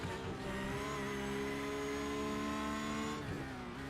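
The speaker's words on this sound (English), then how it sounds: "there you see the Durant Motorsport car coming through nice and clean up on the inside" A race car in a sim racing endurance series holds a loud, steady engine drone with layered harmonics, close and continuous, with a slight pitch shift near the end.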